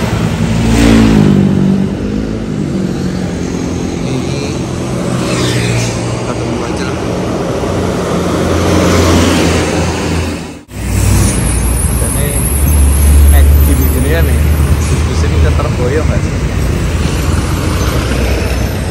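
A Royal Safari medium-size bus engine revs and accelerates loudly and close by, a sustained roar that cuts out for a moment midway and then surges again.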